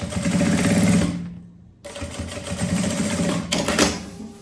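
A sewing machine stitches a quilted puffer tote bag in close, loud bursts of rapid needle clatter, pausing briefly in the middle and then starting again.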